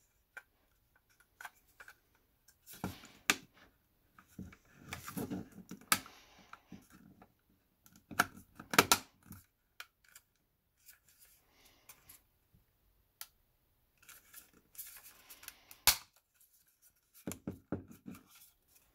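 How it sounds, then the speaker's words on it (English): Plastic snaps and clicks as an NES-style Raspberry Pi case is pressed back together, scattered sharp clicks and rattles in short bursts, close and fairly quiet. "now that we're all done, we can snap the case back together."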